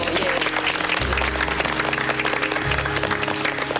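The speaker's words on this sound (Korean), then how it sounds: "저희가 한번 응원의 박수를 또 보내드리면 어떨까 싶어요" A studio audience on a health variety show gives encouraging applause, continuous clapping under background music throughout.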